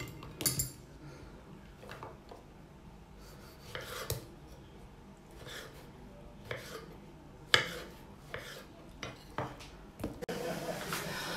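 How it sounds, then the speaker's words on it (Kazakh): A knife cuts washed tomatoes into large chunks for a jarred salad, giving quiet, irregular cuts and knocks on a board with a few sharper clicks, spaced a second or two apart, with soft talk in places. "Енді біз помидорды өстіп, 4 бұрышты ғып турап шығамыз"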